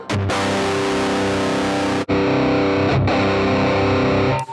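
Distorted electric guitar played through a Joyo multi-preamp unit with cabinet simulation switched off, giving a harsh, fizzy, buzzing tone; loud sustained chords ring out, briefly cut near the middle, then resume alone without any talk.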